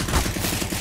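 Rapid gunfire from the CS:GO game fills the whole moment, a dense, steady burst of shots with no pauses, loud and close, where a pump-action shotgun is being fired amid the chaos.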